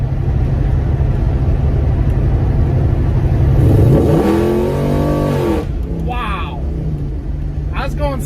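A 1966 Chevelle V8 with roughly 500 horsepower runs as a loud, steady engine rumble, then revs rise and fall as it climbs through the gears, with a rising whine near the middle. Occasional voices can be heard over it.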